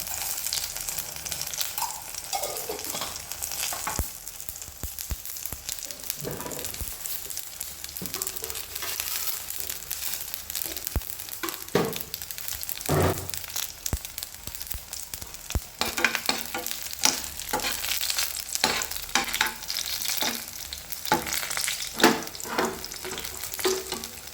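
Mustard seeds fry in hot oil for an eggplant curry, giving a steady close sizzle scattered with sharp little pops and crackles throughout, with no voices.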